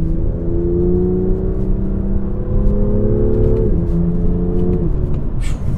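A BMW M2 pulls hard in fourth gear with a manual gearbox, its engine note rising steadily in a loud, close, even drone before a brief dip and a renewed climb, over steady road rumble inside the cabin.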